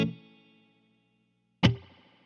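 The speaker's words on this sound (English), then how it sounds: "It's a classic spring reverb." A guitar chord rings out and decays, then a sharp strum or knock sets off the splashy, metallic spring reverb of a guitar amp, its tail lingering for about a second.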